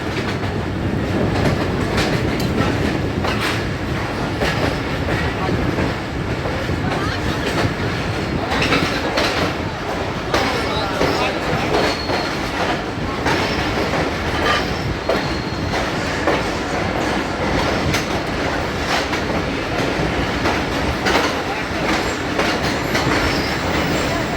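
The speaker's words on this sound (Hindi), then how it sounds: "फाइनल जी हमारी लोकोमोटिव की ब्रेक लग चुकी है" The Rehman Baba Express passenger train rolls along the line between Taxila and Rawalpindi, steady loud rumble with rhythmic clattering of wheels and squealing brakes, heard close from on board throughout.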